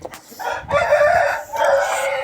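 A broody hen, being set to brood, gives close, loud clucking in a couple of sustained bursts, with no talk over it.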